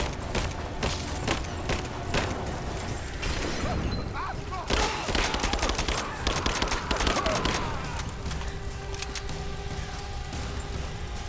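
Sustained gunfire from the video game Rise of the Tomb Raider: rapid bursts and sharp cracks with booms and shattering, heavy and continuous throughout, mixed with shouted combat voices.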